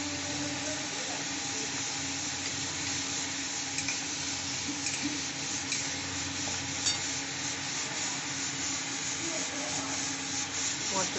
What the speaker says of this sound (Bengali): মশলাটা একটুখানি কষবে